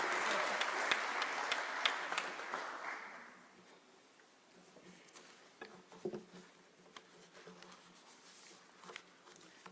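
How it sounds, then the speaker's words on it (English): An audience at an international heritage conference applauds, with dense clapping that is loud at first and then thins to scattered claps and faint murmurs. "Keep clapping until she gets here, just to encourage her."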